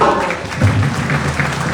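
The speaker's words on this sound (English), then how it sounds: "Can we please have a hand of applause" Audience applause fills a government town hall launch at the EJS Ministerial Complex in Liberia, a steady wash of clapping held at an even level for under two seconds.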